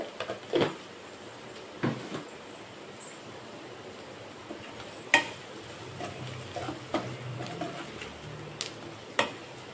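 Spiced potatoes with chili powder get stirred in a pan over a soft, low sizzle, with intermittent spoon scrapes and knocks against the metal recurring every second or two.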